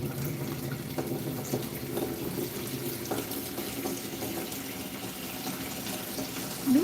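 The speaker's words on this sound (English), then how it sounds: "Give the bin the rinse." Water runs from a tap to rinse out a bin, a continuous steady splashing flow close by that lasts throughout.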